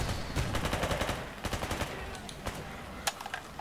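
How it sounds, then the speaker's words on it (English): A regular shotgun fires in the video game Radiophobia 3, a series of loud, sharp blasts over dense gameplay noise, with one especially strong crack near the end. "Just a regular shotgun."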